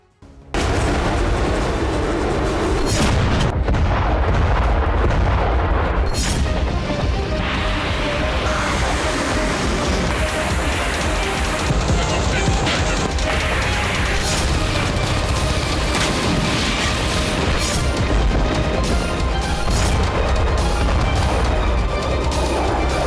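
Dense barrage of blasts and crashing booms from bombs striking areas of Ukraine in the Russia–Ukraine war, loud and continuous for over twenty seconds with overlapping impacts and rumbling debris.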